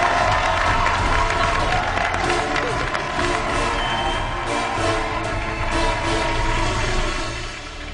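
Former MasterChef contestants cheer in the competition kitchen, a dense, steady roar of crowd shouting, whooping and clapping that fills the space and fades slightly at the end.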